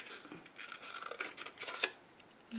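Scissors cut around an image on a small sheet of paper, with soft, close snips and rustling paper in a quiet room and a sharper cut near the end.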